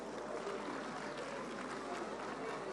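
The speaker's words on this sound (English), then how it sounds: "A round of applause, please." Applause from a church audience at a Lagos gathering, a steady wash of many hands clapping at a fairly even level throughout.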